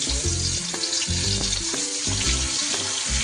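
Small chela fish fry in hot oil in a pan, a steady dense sizzle crackling close up throughout, with low rumbling hum beneath and occasional clinks, no voices.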